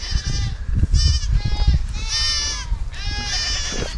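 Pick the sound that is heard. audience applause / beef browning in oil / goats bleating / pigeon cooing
goats bleating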